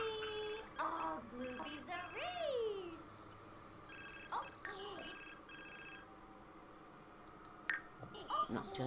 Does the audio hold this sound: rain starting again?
no